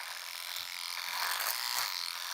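A small battery-powered hedge trimmer with dying batteries buzzes steadily up close cutting a bush, a thin high-pitched whir with slight wavering as it cuts.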